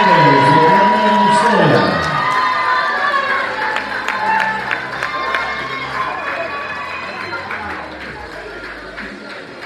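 Crowd at a Fred Astaire Dance Studios professional dance competition, the 2025 Arizona Grand Championships, cheers and applauds winners, loud and sustained with a dense wash of clapping and shouts after an announcer's voice at the start.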